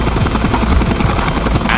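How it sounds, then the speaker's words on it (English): A helicopter's rotor thuds in a fast, steady chop with a loud, close, continuous engine roar, heard alone without talk. "As the helicopter gets closer,"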